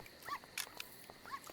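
Dogs in On the Rain Slick Precipice of Darkness give a few faint, distant yelps and whimpering barks in short bursts, set low under a quiet game background.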